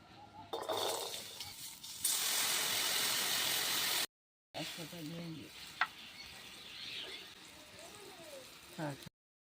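Fruits for a pickle dropped into hot oil with a chili and bay leaf, bursting into a loud, close sizzle for about two seconds, then a brief cut and quieter cooking noise under voices talking.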